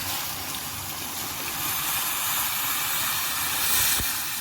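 Hot water pours over okra and meat in a tagine with a continuous loud hiss and gush, steady throughout, close by.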